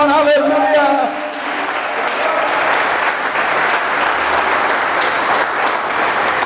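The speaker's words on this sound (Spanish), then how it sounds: "Dele palmas al Señor, aleluya." Church congregation clapping together, a sustained dense burst of applause after a brief spoken phrase at the start, filling the room evenly throughout.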